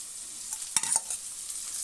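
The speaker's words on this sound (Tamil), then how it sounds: "இது சேர்த்து இப்போ நல்லா கிளறி விட்டுறலாம்" A spoon stirs ginger garlic paste with fennel in a hot pan for a chicken dish, giving a few short scraping strokes over a steady sizzle, close and fairly quiet with no voices.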